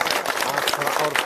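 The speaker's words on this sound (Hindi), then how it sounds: "सारे लोगों का हम लोग मिलकर जोरदार तालियों से स्वागत करते हैं" Villagers clap to welcome guests at a village gathering, a brief burst of dense crowd applause with voices mixed in.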